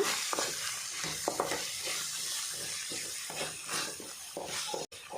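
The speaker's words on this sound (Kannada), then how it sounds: "ಒಂಜಿ ಮೂಜಿ ನಿಮಿಷದಾತು ಫ್ರೈ ಮಲ್ತಿಗೆ" Masala egg bhurji frying in a pan with coriander, chilli and turmeric powders, giving a steady close sizzle and hiss, with periodic scraping and stirring strokes.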